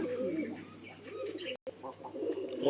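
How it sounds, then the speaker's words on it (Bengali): A pair of Lotan pigeons with feathered feet, kept at a house, give repeated low, throaty coos close by, overlapping in soft rolling phrases with faint chirps in the background. "সুন্দর সুন্দর কবুতর আছে"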